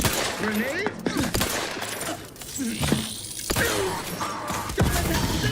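Gunfire and a grenade blast fill a combat scene in The Outer Worlds 2, with repeated loud shots, crashing debris and mechanical clatter running continuously under background game voices.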